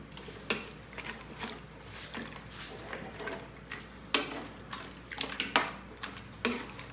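A spoon stirring pork kaldereta in a cooking pot, giving faint scattered clinks and scrapes at an irregular pace over a quiet background with no talk.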